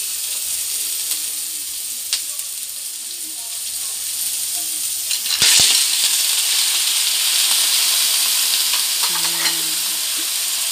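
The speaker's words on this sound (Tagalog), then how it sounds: "una nating ilagay yung tahong." Fresh mussels drop into a hot pan for a seafood caldereta, setting off a steady, loud sizzle and frying hiss with brief clatter, stirring and scraping sounds midway and near the end.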